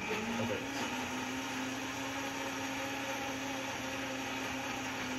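Almond Cow milk maker running a cycle with coconut shreds, a steady loud motor whir with a constant hum, unbroken from start to finish after a brief opening clatter.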